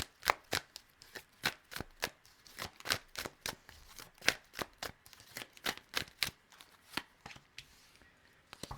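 An oracle card deck shuffled in quick bursts, about two dozen sharp riffling snaps at an irregular rhythm, close and crisp with no talking.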